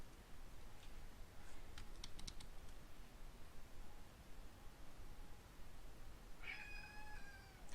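A cat meows once, close and loud, near the end, after a quiet stretch of light computer keyboard typing clicks.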